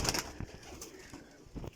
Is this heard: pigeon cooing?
yes